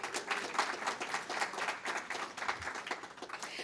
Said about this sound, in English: please give the staff of the Institute and all who organized it a big round of applause